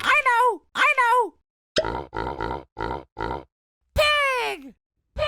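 A pig gives a couple of squealing oinks, then a quick series of short rhythmic grunts, followed by another longer squeal, all loud and close with gaps of silence.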